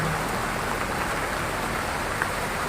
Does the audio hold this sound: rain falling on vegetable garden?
yes